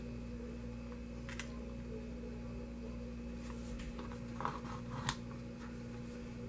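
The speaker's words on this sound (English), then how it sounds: "you're going to cut this one into 8 squares. So, I mean, not 8 squares, 8 triangles." Scissors cut paper into triangles for a napkin-fold card, a few soft crisp snips scattered over a steady low background hum, close but faint.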